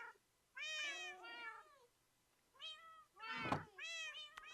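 In Minecraft, a cat meows several times in short, clear, fairly quiet calls separated by brief pauses, with a soft thunk in the middle.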